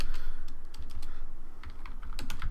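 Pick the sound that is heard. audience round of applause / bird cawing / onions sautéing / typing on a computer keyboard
typing on a computer keyboard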